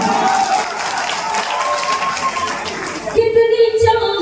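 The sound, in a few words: audience applause at a Hindi poetry mushaira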